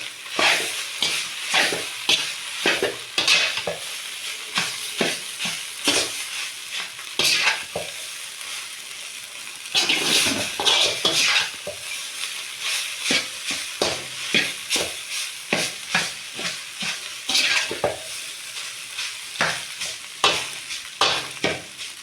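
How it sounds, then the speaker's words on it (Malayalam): Noodles being stirred in a hot pan with masala and chili powder, a steady run of scraping, clattering strokes over a constant sizzle, close and fairly loud with no talk. "എന്നിട്ട് ഇളക്കൽ തുടങ്ങുക."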